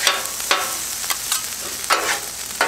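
Fried rice being stirred in a hot pan, with a quick run of close scraping strokes over a steady sizzle and no voices.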